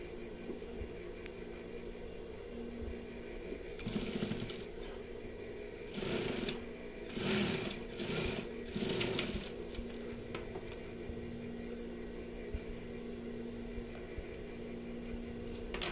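A sewing machine stitches a pocket flap on a koko shirt in short bursts of rapid, fairly quiet whirring and clatter, separated by pauses of low background hiss.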